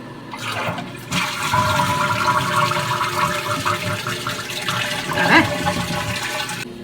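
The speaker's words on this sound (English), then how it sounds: "we're supposed to flush the toilet and hold it down until all the water is gone." A toilet flushes with a loud rushing gurgle of water that keeps draining steadily for several seconds, close by, with the handle held down until the bowl empties.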